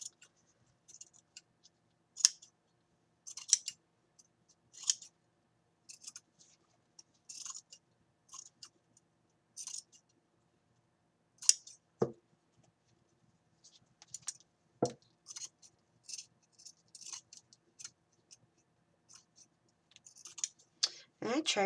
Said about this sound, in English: I am going to just cut this very close on the back.